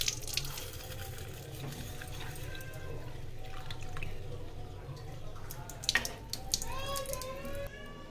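Water poured over moong dal in a bowl to soak it, a soft uneven trickling and dripping at close range over a low background hum.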